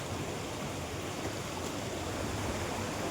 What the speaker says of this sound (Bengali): এই যে জলটা দেখবে সামনে, এই জলটাই ওই ঝর্ণা থেকে পড়ছে।